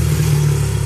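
A dirt bike engine running with a steady low, rumbling drone, close and loud, holding an even idle-like tone throughout without a clear rev.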